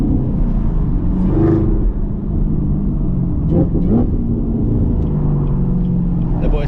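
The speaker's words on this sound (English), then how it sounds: "it sounds crazy with this MBRP exhaust on the back." Chevrolet Camaro ZL1 1LE fitted with an MBRP axle-back exhaust, a steady loud low rumble while driving, with engine note rising and falling through gear changes and some talk over it.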